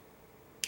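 A Cold Steel SR1 Lite folding knife's blade tick, a single tiny sharp click at the very end of a near-silent moment, quiet and close.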